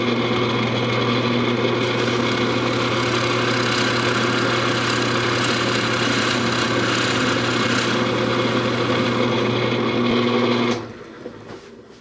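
A loud, steady drill motor whine drones for about eleven seconds while boring a 1.25-inch Forstner bit hole 3/8 inch deep, then cuts off abruptly and winds down to quiet.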